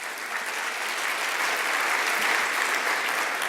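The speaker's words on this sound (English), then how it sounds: "Absolutely, a round of applause." A crowd claps at a presentation on human trafficking, a steady, even wash of applause that carries on throughout with no voices standing out.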